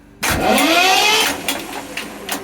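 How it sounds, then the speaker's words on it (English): A Russell Newbery vintage engine aboard the narrowboat 'Futurest' being wound over, starting abruptly as a loud, sustained cranking churn with a rising whine. The sound holds steady for about a second, then eases into a rougher, uneven turning. "So I'll just give it a couple of winds up just to get the oil flowing."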